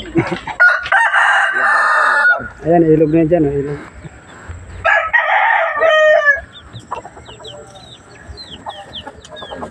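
A rooster crows loudly nearby, its drawn-out call rising over people talking and other hens clucking in the background.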